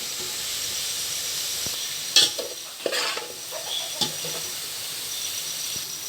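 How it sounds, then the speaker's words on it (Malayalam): Onions fry in oil until brown for mutton biryani, with a steady hissing sizzle and a few louder scrapes and clanks of a ladle stirring the pan. "നമ്മുടെ സവാള ഇവിടെ ബ്രൗൺ കളറായി വന്നിട്ടുണ്ട്"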